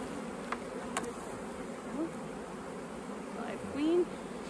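Honeybees buzz around a hive in a steady, close drone, with a couple of louder passes near the end as individual bees fly by.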